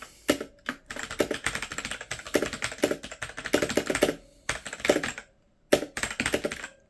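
Fast typing clatters on a loud computer keyboard up close, dense bursts of crisp key clicks broken by short pauses, with no one talking.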